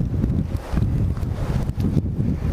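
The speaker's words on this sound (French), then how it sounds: "Et à mon avis le vent ça aide pas du tout." Strong outdoor wind buffeting the microphone during a bee swarm capture, a loud, gusty, continuous low rumble lasting the whole moment with no voices.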